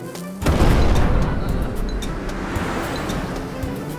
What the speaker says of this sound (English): Oh no! I think the volcano is erupting.